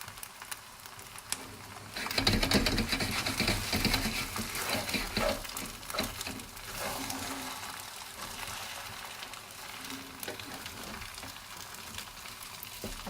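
Green onions hit a hot pan and break into a loud, crackling sizzle that gradually settles into steady frying, with occasional scraping stirs.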